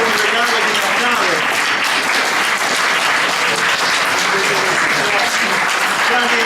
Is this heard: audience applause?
yes